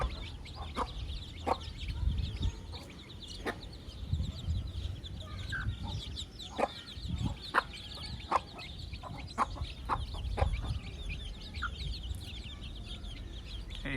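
Desi hens cluck softly and repeatedly close by on a rooftop while high, sharp peeps from small chicks sound throughout, scattered and irregular.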